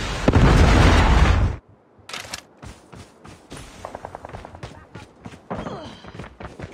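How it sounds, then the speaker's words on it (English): A Predator missile strike explodes in Call of Duty Mobile as a loud, dense blast roaring for about a second and a half, then cutting off into scattered bursts of gunfire and thuds. "Predator missile inbound."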